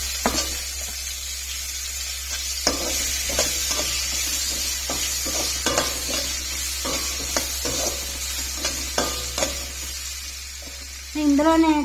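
Ivy gourds (dondakaya) fry in a little oil while a spoon stirs them, giving a steady, close sizzle with regular scraping strokes and a louder burst of activity near the end.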